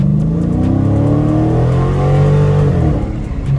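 Loud Scat Pack car exhaust with a resonator delete revving steadily with a raspy, droning tone that rises and holds, close by, no voices.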